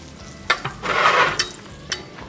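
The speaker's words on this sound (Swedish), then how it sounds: "Det här är liksom smörstekt wagyu." Wagyu beef fries in butter in a pan, a soft steady sizzle broken by a few sharp spitting pops and one louder swell of crackling, close and clear with no talk.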